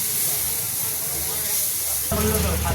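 Tomatoes frying in a pan give a continuous close hiss and sizzle that grows louder and brighter near the end, with a voice talking over it.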